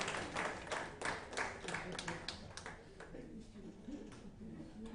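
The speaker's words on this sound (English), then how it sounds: "Clap for them." An audience claps at an outdoor indigenous seed and food fair, with a faint, scattered patter of hands mixed with voices.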